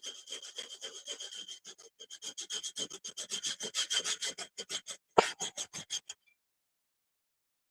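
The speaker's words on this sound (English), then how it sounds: "if you haven't grounded nutmeg before in a grater, you want to start slow like that" A whole nutmeg is rubbed on a rough grater in quick, even rasping strokes that start slow and pick up speed, close and clear, then stop abruptly.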